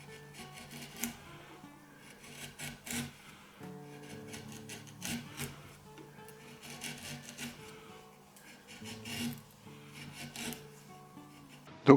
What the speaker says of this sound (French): Donc on va utiliser un simple ciseau à bois.